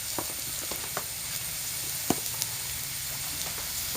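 Garlic and green chillies frying in a pan with ginger, a steady close sizzle and hiss with a few light clicks and taps of a utensil.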